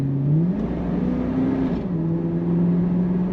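A 1992 Chevrolet Camaro RS 25th Anniversary coupe pulling hard from inside the cabin, engine note rising through a gear, dropping at a shift, then climbing again, loud and steady with no talking.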